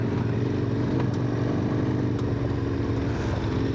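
A motorcycle engine runs steadily and close on the Kırkpınar mountain pass in the Bolkar range, a continuous low throbbing drone with no clear revs or pauses.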